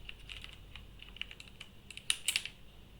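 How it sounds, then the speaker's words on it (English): Keys clack on a mechanical keyboard in quick irregular bursts, soft and close, with a few sharper strikes near the end and no talking. "This is mechanical keyboard."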